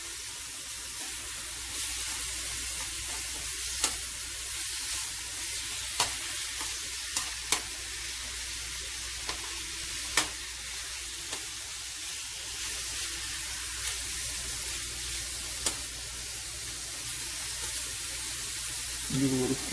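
Chicken sizzling in a pan for pesto Alfredo pasta, a constant frying hiss with scattered sharp pops and occasional utensil scrapes as it is stirred, close and steady.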